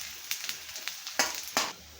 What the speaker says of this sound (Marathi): तर 3 कांदे घेतलेत मी, उभे कट करून घेतलेत आणि आता ते आपल्याला तळून घ्यायचे।